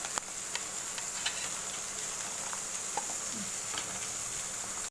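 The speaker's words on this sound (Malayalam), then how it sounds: "ഇനി ഉള്ളിയിട്ട് വണക്കാം." Onion sautéing in a pan for a turkey berry (chundakkai) dish makes a constant fine hiss, dotted with small crackles and pops throughout.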